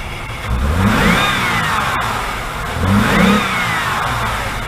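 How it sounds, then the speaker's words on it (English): A 2005 Jeep Liberty with a 3.7L engine revs up twice in succession, the pitch sweeping up and down each time over a steady engine drone, loud and close with no talk. "Let me gun it and see if it's got more power than it has."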